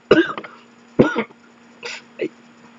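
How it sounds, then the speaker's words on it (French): A person coughs several times in short, separate bursts, close and fairly loud, with quiet pauses in between. "Ça me fait super mal quand je tousse."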